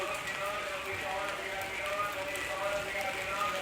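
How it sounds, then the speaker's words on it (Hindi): Heavy monsoon rain after three days of stormy downpour, a steady, faint hiss of falling water outdoors without a break. "आप देख सकते हैं अभी ये बारिश ही हो रही है स्टिल"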